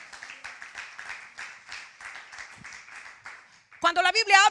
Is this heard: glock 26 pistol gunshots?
no